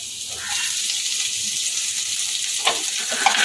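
Chopped garlic, ginger and green chili frying in hot oil for street-style chicken chowmein, a loud, steady close sizzle with a couple of faint clicks near the end.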